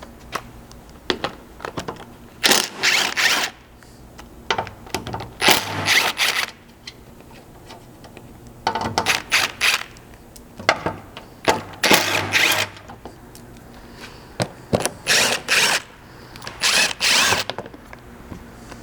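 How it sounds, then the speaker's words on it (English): Repeated bursts of a power tool with a 10mm socket spin out splash guard screws on a 200 Series Land Cruiser, several short whirring runs separated by quiet pauses, close and fairly loud with no talking. "Those are going to be 4 screws that can be removed with a 10mm socket"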